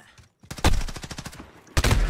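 Bursts of rapid gunfire in a shooter video game, a rattling automatic volley of evenly spaced shots after a brief silence, then another loud burst starting at the end, close and loud.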